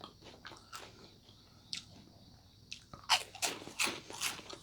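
Close, loud crunching and chewing of airy cheese puffs with a cotton-candy flavour, in irregular bursts of bites and mastication, with no talking.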